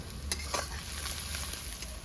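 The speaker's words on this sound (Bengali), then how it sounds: "পেঁয়াজ আমার ভাজা হয়ে গেছে" Onions sizzle and crackle steadily in a pan of oil, a continuous close frying hiss with a few brief spatters and no voices.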